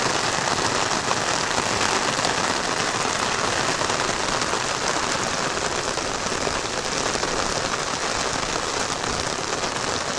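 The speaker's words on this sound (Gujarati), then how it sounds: "ભાઈ નજારો કેમ છે વરસાદનો" Heavy rain pours down steadily and densely, a constant loud hiss of drops hitting surfaces with no letup and no voices.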